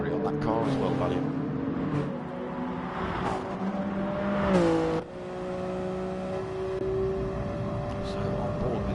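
Race car engines whine and rev in an RC racing video game, a steady sustained tone with pitch shifts as the car accelerates, heard under continuous commentary from a race caster.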